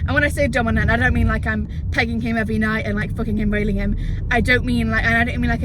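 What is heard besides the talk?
No everyday noise stands out behind the speech.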